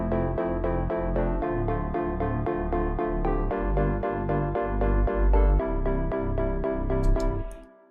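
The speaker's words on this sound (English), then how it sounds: "And I added a Reese bass with some plucky chords, which sounds like this." A Reese bass pulses in steady repeated notes under plucky synth chords in a pop track, the loop playing cleanly and prominently for several seconds before cutting off.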